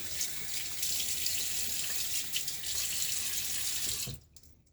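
Steady water runs from a bathroom tap into a sink while a face is wetted for shaving, a close hissing splash that stops abruptly near the end.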